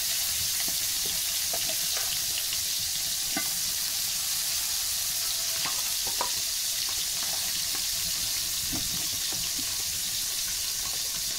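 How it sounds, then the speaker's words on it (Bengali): Soft bele fish frying in hot oil, giving a steady close sizzle and crackle with occasional brief pops and light stirring clinks throughout. "মাছগুলো আমি এখন একটু ভালো করে ভেজে নেবো লাল লাল করে।"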